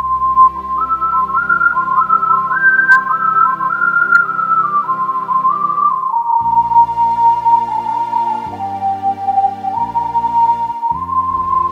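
A synthesized whistle tone played on a Korg Pa series arranger keyboard carries a smooth, sliding melody in the style of Bollywood film songs. Soft bass notes and chords play underneath it.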